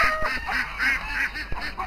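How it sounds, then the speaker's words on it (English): Juvenile farm ducks quack in a run of short, nasal calls close by, several overlapping birds calling in an uneven rhythm outdoors. "Here's the older juvenile birds."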